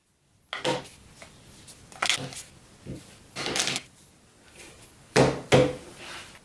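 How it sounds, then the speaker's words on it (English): Board game sector tiles for Eclipse: Second Dawn for the Galaxy being shuffled in separate stacks, giving several short, close bursts of clacking and riffling card-like tile sounds with quiet pauses between them. "Shuffle each of these sector stacks separately."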